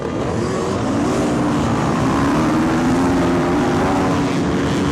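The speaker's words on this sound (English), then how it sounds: "Imagine like 60 plus or even more motorcycles starting at the same time." A dense roar of 60 or more motorcycles starting a race at once, loud and sustained, with overlapping motor drones blending into a continuous wall of sound.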